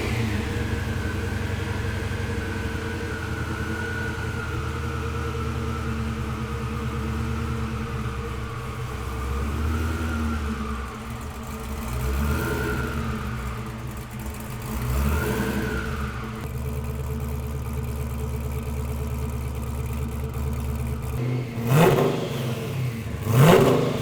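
A 1967 Camaro with a supercharged LSA V8 runs at a steady idle, then revs up in several rising and falling sweeps before a sharper burst near the end; loud, close and continuous with no talking.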